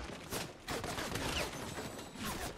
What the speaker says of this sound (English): It's the minions shooting at me.